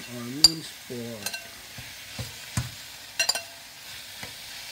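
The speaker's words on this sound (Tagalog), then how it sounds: "Lutuin lang natin ng mabuti ang pork mince." Minced pork being stirred and fried in a pan for meaty spaghetti, with irregular scraping clicks of a utensil over a faint sizzle; a brief voice-like sound opens the clip.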